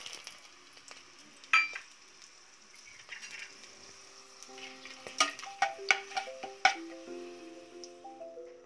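Whole cardamom, cloves and bay leaf crackle and sizzle in hot ghee in a pan, with sharp scattered pops and ticks over a soft frying hiss and occasional spoon clinks.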